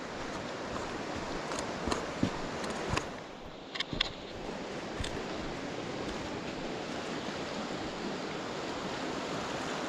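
River water rushes and churns around a big branch dunked and swaying in the current, a steady broadband wash with a few splashy knocks, no voices.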